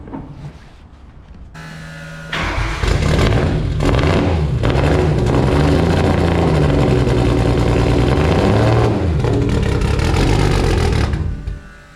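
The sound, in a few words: Nissan S14 Silvia engine running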